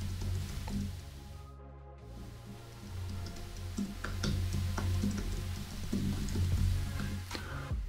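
Keys on a computer keyboard are tapped in short, irregular bursts of light clicks, close and fairly quiet, over a steady low hum.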